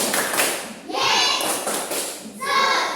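Children in a classroom chant a call-and-response clapping cheer to Jesus, voices rising in bursts with hand claps and thumps mixed into the chanting, close and lively.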